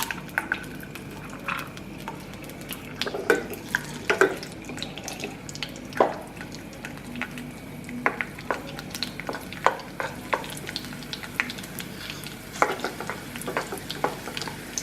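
Raisins frying in about two tablespoons of ghee in a pan for rice payasam, with a soft steady sizzle, scattered light clinks and stirring scrapes throughout, close and moderate in level, no talk.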